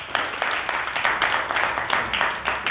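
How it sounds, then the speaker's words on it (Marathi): An audience at a religious satsang gathering claps together, a rhythmic run of fairly loud, even claps coming in quick regular bursts, with no talk over it. "ताईंसाठी सर्वांनी टाळ्या वाजवा"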